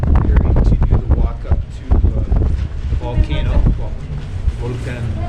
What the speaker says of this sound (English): Very windy outside.